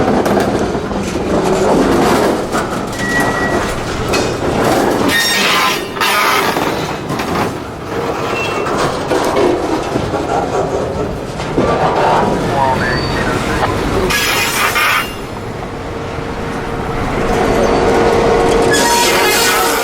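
A Florida Central Railroad freight train backs slowly into an industrial spur, a loud continuous rumble of rolling cars with wheel squeals and metallic clanks and a brief voice in the background.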